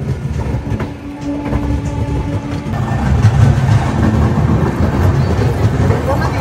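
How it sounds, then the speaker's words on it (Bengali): The Jammu Tawi Express, train 13151, rolls into crowded Gaya station after rain, with a steady loud rumble and rhythmic clatter of wheels and carriages throughout, voices murmuring faintly beneath. "এখন ট্রেন ঢুকছে গয়াতে"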